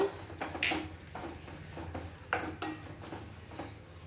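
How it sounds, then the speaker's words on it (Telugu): Thin poha (flattened rice) is roasted dry in a kadai, with a metal spoon tapping and scraping the pan in quick, irregular clinks, fairly faint and close. "దీన్ని కూడా వేపుకుందాము"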